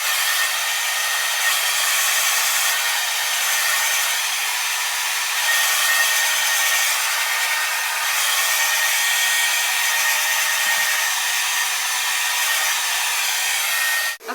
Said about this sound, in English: So just be blow drying it back and forth,